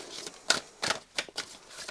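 A deck of tarot cards is shuffled in several quick, crisp riffles, each burst of papery flutter close and distinct, separated by short pauses.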